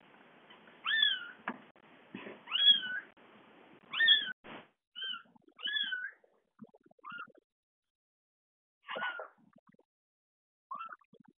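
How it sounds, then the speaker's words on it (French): A cat meows repeatedly, with several clear, fairly close meows in an irregular series, some short chirps, and brief quiet gaps, over an otherwise silent background. "Gentil chat."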